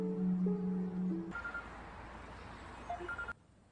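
An incoming phone call in a Korean drama scene sounds as a run of electronic tones, followed by a quieter stretch with a few more short beeps before it cuts off.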